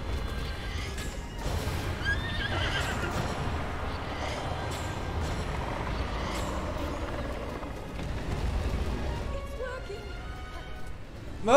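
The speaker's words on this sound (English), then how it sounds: "Move, horse!" Horse neighing and whinnying in the video game The Legend of Zelda: Breath of the Wild, layered over steady game sounds and music, with faint clip-clopping hooves and voice chatter throughout.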